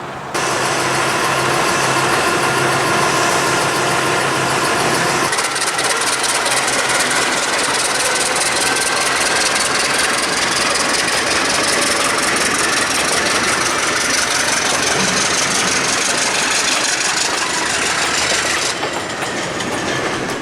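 An Alco C415 diesel locomotive on the Burlington Junction Railway, its engine idling with a loud, continuous, steady rumble and mechanical clatter that shifts slightly in tone partway through, heard close with no voices.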